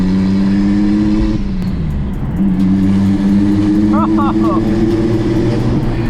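A 600 hp turbocharged BMW 335i engine drones loudly and steadily, with the pitch shifting as it revs, while a voice talks over the engine noise.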